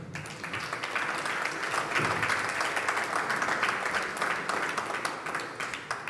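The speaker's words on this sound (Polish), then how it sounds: "Myślę, że ten moment zasługuje na oklaski." Sustained applause from an audience fills the hall at a parliamentary senate candidates' debate in Gniezno, a dense, even wash of clapping lasting throughout without pause.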